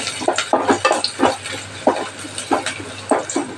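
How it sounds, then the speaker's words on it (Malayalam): Ginger pieces being sautéed in a pan for fish pickle, a spoon scraping and stirring in regular, fairly loud close strokes over a light sizzle. "ഒരു ചെറിയ കഷ്ണം ഇഞ്ചി കട്ട് ചെയ്ത് അതും കൂടി ഇട്ട് കൊടുക്കാം അപ്പോൾ നമുക്ക് നന്നായിട്ട് വഴറ്റാം"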